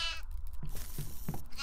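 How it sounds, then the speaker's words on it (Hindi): In the horror video game Devour, a goat bleats in short wavering cries, loud and close, repeating several times within a couple of seconds. "यार बकरों की आवाज आ रही है भाई"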